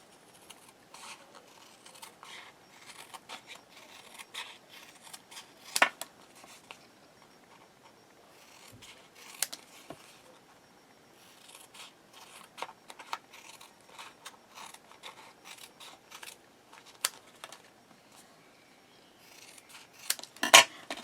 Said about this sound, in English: I'm going to cut around it. Just going to use my scissors.